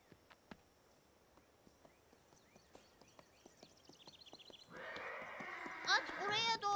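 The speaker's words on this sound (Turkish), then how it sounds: "Atın sesi Kayu'yu korkutmuştu." A horse walks closer with steady clip-clopping hooves, the footfalls growing louder, then breaks into a loud neigh and whinny near the end.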